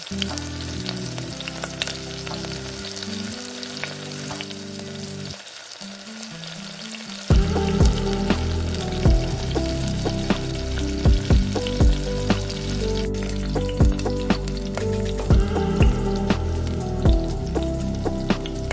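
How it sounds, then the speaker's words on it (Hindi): Tomato puree fries in hot oil in a pan, sizzling steadily while a spoon stirs and scrapes through it. The sizzle briefly dips, then returns louder and denser, with scraping clicks scattered throughout. "साथ ही टमाटर का प्यूरी डालकर तेल छोड़ने तक भूनेंगे।"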